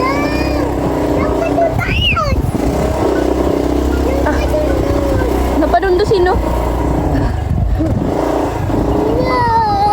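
A motorcycle rides along an unpaved farm road, its engine droning steadily and close throughout while people talk over it.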